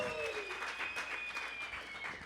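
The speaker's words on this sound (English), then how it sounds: "Give him a round of applause." A crowd applauds at a high school football coach's show, a steady patter of clapping throughout, fairly faint, with a tonal whistle-like sound gliding over it.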